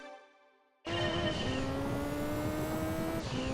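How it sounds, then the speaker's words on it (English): A Subaru Impreza rally car in the Gran Turismo 2 video game starts up from a quiet idle into a loud, steady, buzzing engine drone that holds nearly level, with a brief pitch dip near the end. "This is also not what a Subaru Impreza rally car sounds like."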